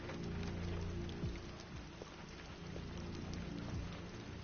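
Steady rain falls in the video game Detroit: Become Human, a dense continuous patter with low rumbling underneath, holding even and fairly loud throughout with no speech.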